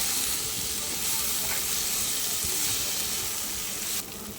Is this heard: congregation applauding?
no